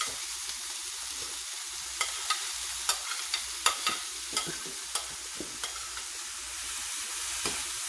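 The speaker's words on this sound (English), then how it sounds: "add the meat, which is the codfish" Codfish and vegetables frying in a pan, a soft continuous sizzle under irregular stirring taps and scrapes of a utensil, fairly quiet and close.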